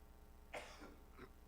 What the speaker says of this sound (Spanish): Me disculpa la tos, hermano.